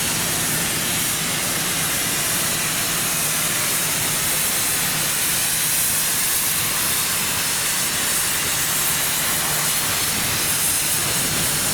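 Steamrail Victoria's Eureka Express steam train at Southern Cross station, a loud unbroken roar of hissing steam that holds steady throughout, with no voices.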